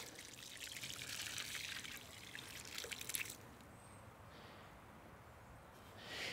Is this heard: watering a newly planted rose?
yes